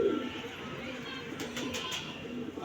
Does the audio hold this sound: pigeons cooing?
yes